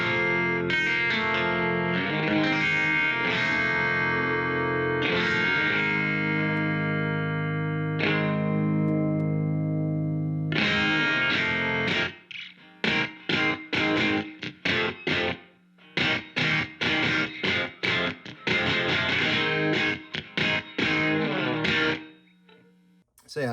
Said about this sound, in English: I like to have that just as a stock reverb sound.